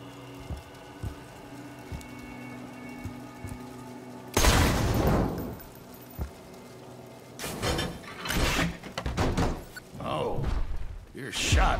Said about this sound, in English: Looks like when you shot the lock, you blasted the final compass piece into bits.